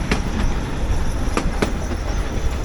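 Narrow gauge passenger train on the Bilimora–Waghai heritage line pulling into a station: a steady close rumble of carriages with sharp clicks of wheels over rail joints and a faint squeal, no voices.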